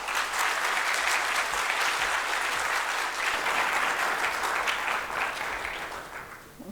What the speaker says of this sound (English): please welcome with a thundering round of applause, Bruce Momjian.